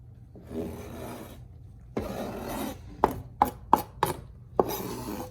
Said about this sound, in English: So using our knife, just gonna scrape it in.